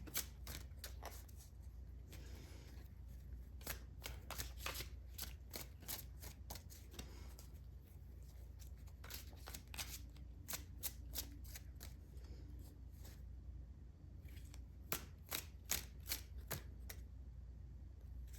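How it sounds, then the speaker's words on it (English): A second tarot deck is shuffled by hand in rapid bursts of crisp card riffles and flicks, close and quiet, repeating steadily throughout with no talking. "I've got a second deck here just to go a little bit deeper. So we're going to get 4 more cards"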